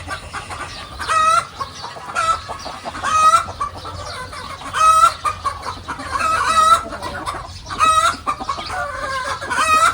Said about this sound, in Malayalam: ഇത് കോഴികളുടെ സെക്ഷനാട്ടോ.